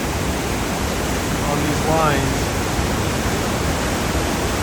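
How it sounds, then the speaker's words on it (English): Water pours out of Post Falls Dam in Idaho on a freezing day, a loud and steady broadband rush that fills the scene, with someone speaking briefly over it midway. "And you just see how that water is just flowing"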